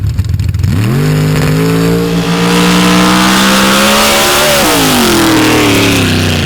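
The Shocker, a mud drag racing machine, making a run at a 2023 MRA event in Steelville: a very loud, close engine roars hard, its pitch climbing steadily, then dipping briefly and rising again.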